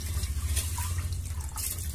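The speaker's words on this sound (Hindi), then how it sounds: "चावल धो रही हूँ" Tap water runs steadily into a pot as rice is washed by hand in a home kitchen, a continuous close splashing rush with no talking.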